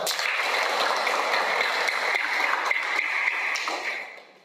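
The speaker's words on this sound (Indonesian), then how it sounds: "sekarang kita berikan aplaus untuk kalian semua" A class of students applauds together in a classroom: dense, steady clapping for about four seconds that tapers off at the end, with no voices over it.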